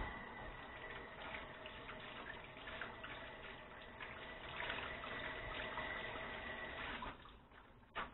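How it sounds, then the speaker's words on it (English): Tap water runs steadily over a hand being washed at a kitchen sink, a continuous splashing trickle at moderate level that eases off near the end, with no talking. "Let me wash my hand here."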